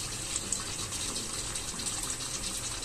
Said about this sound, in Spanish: Un chorrito de vino blanco, yo suelo utilizar un verdejo